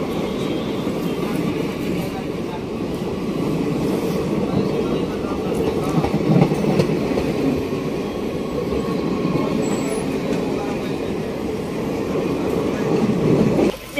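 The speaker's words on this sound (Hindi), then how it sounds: "भुसावल शेड का WMP 4 लोकोमोटिव लगा हुआ है।" A Bhusaval-shed WMP 4 electric locomotive hauls the Dadar Express toward Mumbai, heard as a continuous low rumble and rattle of rolling coaches with steady wheel-on-rail noise throughout.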